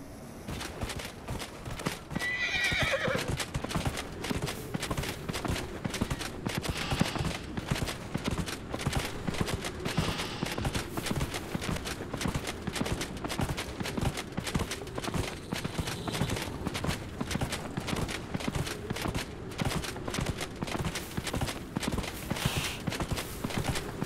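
Horse hooves clip-clop at a steady, brisk rhythm in Dragon Age: Inquisition. The hoofbeats run fairly close and continuous through the whole stretch, with a faint voice briefly near the start.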